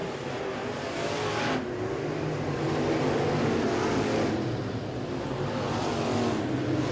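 Dirt track race cars roar steadily through a feature race at the Winter Nationals, engines blending into a loud continuous drone with swells as cars pass, and no talk.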